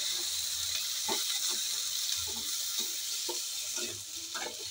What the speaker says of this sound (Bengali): পানি দিয়ে আমি একটু নাড়াচাড়া করব।